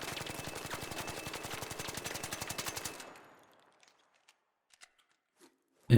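The Stitcher weapon fitted with a compensator and vertical grip fires a rapid, steady burst in the ARC Raiders video game, about three seconds of evenly spaced shots that end abruptly, followed by near silence with faint clicks.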